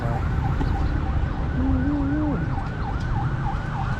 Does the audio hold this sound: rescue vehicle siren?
yes